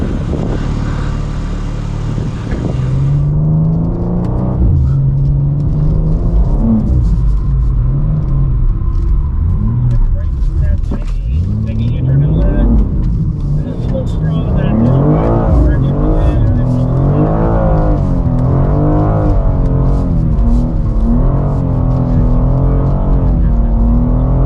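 A 2024 BMW M2 with an 8-speed automatic drifting on a performance driving school track, its engine droning and revving loudly throughout while tires hiss, heard from inside the cabin with a voice talking over it.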